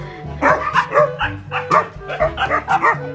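Several excited Shih Tzu dogs indoors yip and bark in quick, overlapping bursts at close range, with a person's voice faintly mixed in.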